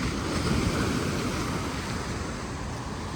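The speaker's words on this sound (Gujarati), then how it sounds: "મોજા બહુ જોરમાં આવતા ગાઈસ કાલના" A steady, loud roar of strong surf on the shore at Phu Quoc island in Vietnam, unbroken for a few seconds with wind noise mixed in.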